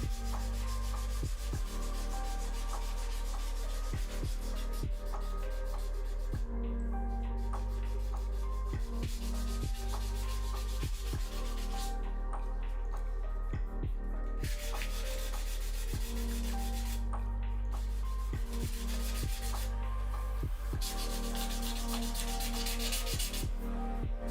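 Hand sanding guitar wood back and forth over a crack, a loud, close, rhythmic rasping rub in long repeated strokes with brief pauses between passes, over a steady low hum.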